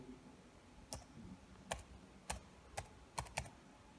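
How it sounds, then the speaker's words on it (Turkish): Someone types a password on a computer keyboard while setting up a Dahua IP camera recorder: six or seven separate sharp key clicks at uneven intervals, close but quiet, over a faint background hum with no talking. "O yüzden ben kayıt cihazımızdan kendi parolasını yazıyorum."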